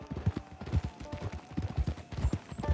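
Horse hooves clip-clop at a steady walking rhythm in the video game Red Dead Online, close and moderately loud, a run of distinct thuds with no talk over them.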